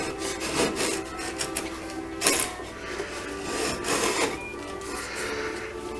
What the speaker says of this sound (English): I can now do a serious amount of carving with a previously very blunt chisel